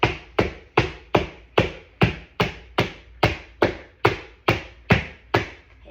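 A baseball catcher's mitt is smacked hard and repeatedly, about fourteen sharp, close leather thwacks in a steady rhythm roughly every 0.4 seconds, each with a quick decay.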